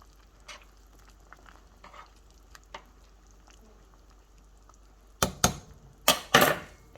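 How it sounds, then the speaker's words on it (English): A pot of turnip dish is stirred near the end, a few loud scraping spoon strokes in quick bursts after a quiet stretch of faint, scattered kitchen noises. "Hold on, let me give it another stir."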